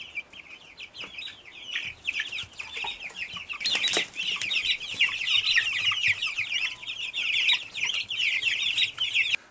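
Young chickens in a brooder box chirp and peep continuously in a dense, overlapping chorus, close and lively, with occasional flutters and scratching underneath.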